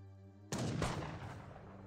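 Heavy cannon and gunfire from the Age of Empires 3 strategy game, a sudden loud burst of booming shots that keeps rumbling and crackling densely after a quiet hum of game music.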